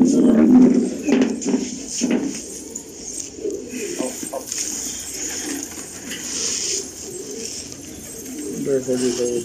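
Patiala pigeons coo in a low, repeated murmur, with soft flapping and shuffling nearby and some background voices.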